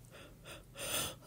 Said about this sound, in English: I'm suddenly yawning a lot.